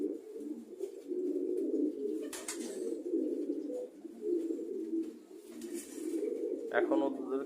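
Pet pigeons coo indoors in a room, a near, continuous low rolling call with breathy pulses, joined near the end by a brighter chirp-like note.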